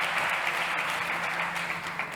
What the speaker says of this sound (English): a big round of applause for Eric Nicolai Franjuela from Last App